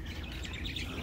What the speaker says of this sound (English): I can hear all these birds. I think they're parakeets, look.